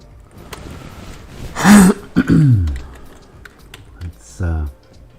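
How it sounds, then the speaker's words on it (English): A person with a harsh, gacky cough lets out a couple of loud coughs and a throat clear in quick succession, followed by another cough, close to the mic in an otherwise quiet room with faint keyboard tapping. "This gacky cough is just killing me."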